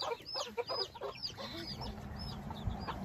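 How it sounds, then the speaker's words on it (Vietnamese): Chickens on a small backyard farm in the United States cluck repeatedly in short, choppy bursts, with several birds overlapping at moderate distance over a low outdoor background. "Gà nó rất là dễ cả nhà."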